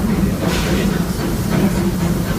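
The Disneyland Railroad train rolls steadily along the rails with a continuous rumbling, hissing clatter, heard from close by, no talking.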